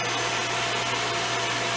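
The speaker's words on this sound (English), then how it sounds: "are using the vacuum head with gate to sort of brush the edges" A steady, droning vacuum cleaner runs continuously at close range, a constant whir with a low hum and no pauses.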